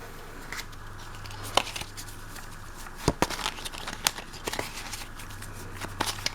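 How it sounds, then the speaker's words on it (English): A game card being shuffled into a tabletop game deck: soft papery rustling and crinkling with a few sharp flicks and snaps at close range, with no voices. "I'm gonna take an aging card, right? And shuffle it into this deck."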